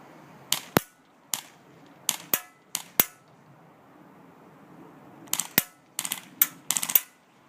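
G36c airsoft rifle fired at a target 50 feet away, giving sharp snappy shots in two clusters of quick single pops separated by a quiet pause, heard alone with no voices.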